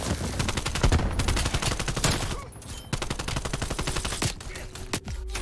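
Rapid bursts of AK74u gunfire from the Call of Duty: Black Ops Cold War video game, sharp repeated shots in quick succession with a brief lull mid-clip before firing resumes.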